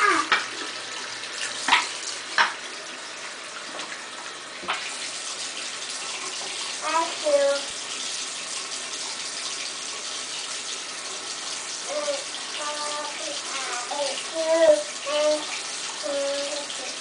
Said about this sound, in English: Don't forget to wash your other hand.